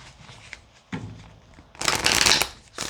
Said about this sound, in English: Oh my god, shuffling.